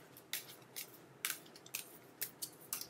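Tarot cards are shuffled close up in quiet surroundings, a series of brief crisp riffling snaps arriving at uneven intervals with no voice.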